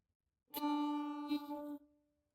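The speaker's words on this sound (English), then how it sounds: "on the violin that's going to sound like this." Two bowed violin notes on the same pitch, clear and close, each about a beat long, followed by silence.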